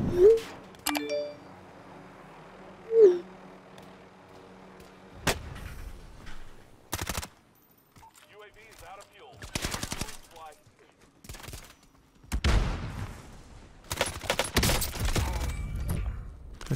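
MP5 submachine gun fire from the Warzone (Modern Warfare) video game comes in sharp, separated bursts of varying loudness, mixed with other game sounds and short quiet gaps.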